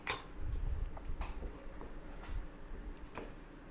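Chalk or marker writing on a classroom board during an English lesson, a run of short scratchy strokes and taps at close range, fairly quiet, with no speech over it.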